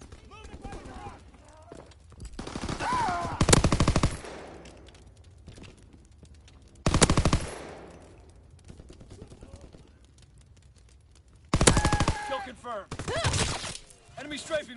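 Bursts of machine-gun fire from an aircraft strafing run in a WWII video game rattle out in several loud, dense volleys, separated by quieter stretches where voices can be heard.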